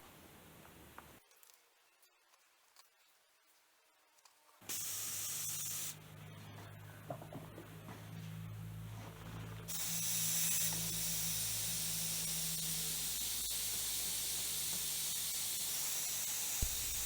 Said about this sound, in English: now I'm using my templates to softly spray a thin black craft paint in the shadowed areas for added definition.